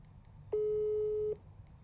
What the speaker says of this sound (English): Dial tone. Overseas.